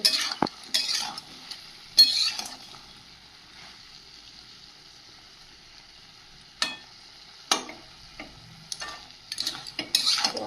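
Pumpkin and potato cooking in their own released water over a low gas flame, with a soft continuous simmering hiss and occasional sharp utensil scrapes and taps, close and without talk.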